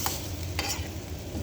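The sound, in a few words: stirring chicken and vegetables in a frying pan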